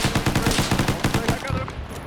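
STG-44 assault rifle firing in a World War II video game, a loud rapid burst of evenly spaced automatic shots that runs for most of the span before trailing off.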